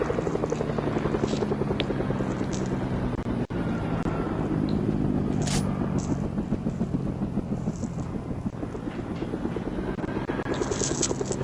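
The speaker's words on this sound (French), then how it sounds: "il y a un hélicoptère qui survole Reski Hills." A helicopter in the Fortnite video game flies over Reski Hills with a steady, loud rotor chop and turbine whine that runs continuously throughout, close by and unbroken.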